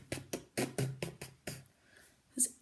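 A voice imitates an aeroplane engine spluttering, giving a run of six or seven choppy, uneven bursts followed by a short pause and one final sputter, close and fairly quiet.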